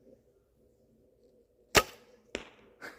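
An arrow shot from a thumb-drawn bow at close range strikes the target with a sharp, loud thwack. Two softer impacts follow in quick succession against a quiet outdoor background.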